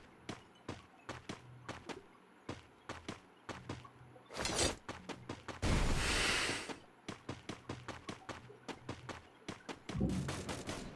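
Rapid bursts of gunfire from the battle royale game Free Fire crack out in quick sharp repeated shots, with a couple of louder rushing blasts in the middle, fairly close and without talk.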